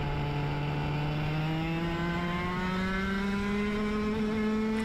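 A club race car's engine while driving on track, heard from inside: a loud, continuous drone whose pitch climbs steadily as the car accelerates, with no voices.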